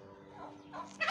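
A brief, faint gobble from a heavy American red turkey, a quick warbling burst that ends in a louder final note.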